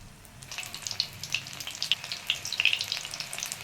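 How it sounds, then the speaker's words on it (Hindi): Mushrooms dropped one by one into hot oil for deep-frying, sizzling and crackling steadily and building louder as more pieces go in, close up with no talk. "तो गरम तेल में फ्राई करेंगे एक एक।"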